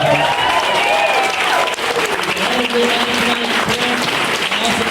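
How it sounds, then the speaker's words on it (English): A theater audience at Relapse Theatre in Atlanta applauds loudly after a comedy set, dense clapping close and sustained with a few whoops and crowd noise throughout. "So let's give Relapse a big round of applause."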